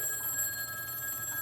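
A telephone rings on the line as a call is put through to Murray Hill in a radio-style stage skit; a steady electronic ringing tone with high pitched components sustains at moderate level throughout, with no talking.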